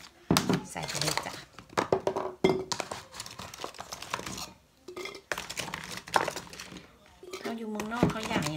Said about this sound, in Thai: ใส่กระเทียมใส่ในขวดโหลนี่ไปเลยนะทุกคน